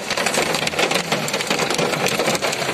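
Heavy rain and hail pour down in Aksy during an autumn storm, a loud, dense, continuous drumming and rattling with no pauses, close and unbroken.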